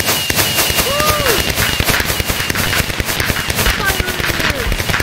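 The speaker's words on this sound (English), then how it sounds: "Where's my fireworks? Give me my fireworks! I need more fireworks!" Fireworks exploding in the video game Minecraft, a loud, rapid crackling barrage of pops and bangs that runs continuously from start to finish, with faint whistling rises and a voice briefly under it.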